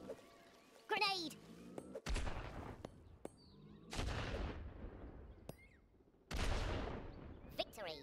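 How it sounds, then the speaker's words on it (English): Grenade blasts in Worms W.M.D: several loud, booming explosions spaced a couple of seconds apart, each with a rumbling decay, plus cartoonish voice squeaks and small effects in between. "Grenade!"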